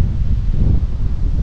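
Wind blowing outdoors in a rural valley, a steady low roar and buffeting against the microphone with no pauses or speech.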